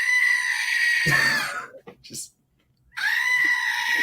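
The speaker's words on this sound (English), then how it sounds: "Grace, I have this random screaming goat." A screaming goat sound effect blares as a loud, harsh, drawn-out bleat, breaks off into a short silence, then returns for a second scream, with a brief spoken word in between.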